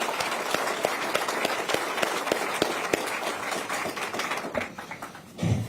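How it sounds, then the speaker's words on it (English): An audience at a political event applauds a Purple Heart recipient, a dense steady wash of many hands clapping throughout, tapering off near the end. "one huge round of applause for our Purple Heart winner, Vince Palmieri"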